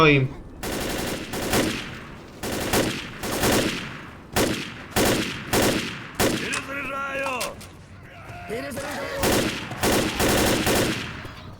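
Automatic rifle fire from the Left 4 Dead video game, loud bursts of rapid shots repeating in several rounds, with brief pauses and some game sound effects between them.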